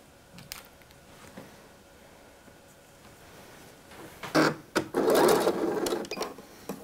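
A sewing machine stitches along a Loreen coat sleeve, a short burst of fast stitching near the end after a quiet stretch of faint handling noise.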